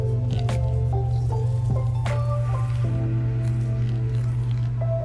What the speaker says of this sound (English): I'm going to pour 100 grams of water to start the bloom process